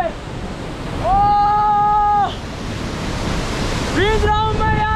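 A waterfall at Badrinath roars as a constant broadband wash of rushing water, loud and close, with someone speaking over it in two short stretches.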